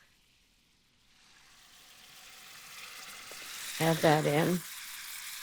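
Broccoli rabe hits a hot pan with garlic and sets off a brief, close, crackling sizzle that swells for about a second, then settles under a low steady fry while a voice speaks briefly.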